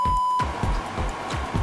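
A short electronic beep of a text message notification rings out as a steady tone near the start, followed by a run of thumping, rustling sounds with no talking.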